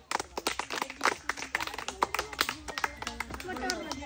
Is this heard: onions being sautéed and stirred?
no